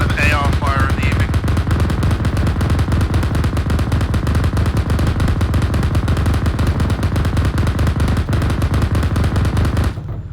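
Automatic assault rifle fire rattles nonstop in Arma 3 during an ambush, loud rapid bursts layered together with echoing reports, then cutting off abruptly near the end.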